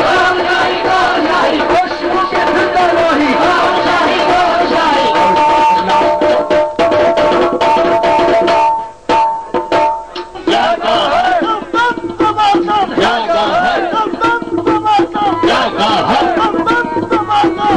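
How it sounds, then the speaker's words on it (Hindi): A crowd at the Jashn-e-Shahi gathering in Raiwind chants the slogan "Tera Shahi Mera Shahi" in loud, sustained unison, voices rising and falling in rhythmic waves with only a brief dip partway through. "तमाम दोस्त जो है मोहब्बत के साथ नारा लगाइए, तेरा शाही मेरा शाही"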